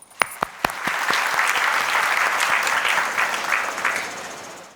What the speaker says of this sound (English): So let's start it with a huge round of applause.